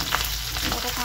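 Mixed leafy greens with chopped onion and green chili fry in a pan, giving a brief, dense, steady sizzle with no voices.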